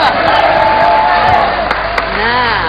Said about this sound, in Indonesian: Oke, tepuk tangan yo, yo.